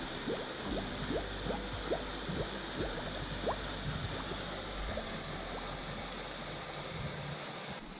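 Clear water gurgles and trickles from a stream in Costa Rica as a bottle is filled on a trekking trail, with a steady close wash of flowing water and faint splashes throughout.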